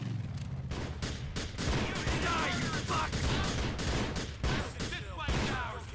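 Gunfire in GTA 4 The Lost and Damned: a rapid burst of loud cracking shots in quick succession, dense and close, with echoing reports and some background noise between volleys.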